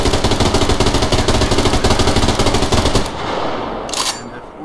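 A machine gun in the shooter video game Survarium fires a sustained, loud, rapid automatic burst for about three seconds. It then stops, leaving a quieter rumble and a brief high-pitched tone.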